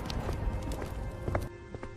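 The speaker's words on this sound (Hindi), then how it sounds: "लखन जल्दी जल्दी अपने घर की तरफ दौड़ता है" A man runs hurriedly toward home, his quick footfalls thudding in a brisk uneven patter over a low background, close and brief with no talk.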